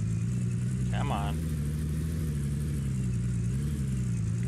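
A car engine in the Gold Rush video game hums in a steady, loud drone throughout. Someone talks over it, and a brief higher mechanical whine cuts in near the start.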